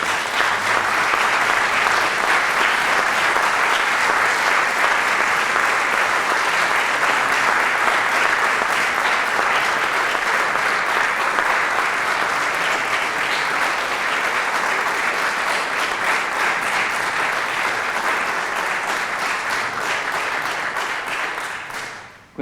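A conference audience applauds loudly and steadily, dense clapping from a large crowd that holds for a long stretch before fading out at the end.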